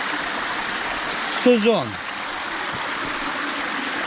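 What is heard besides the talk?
Carpathian forest stream flowing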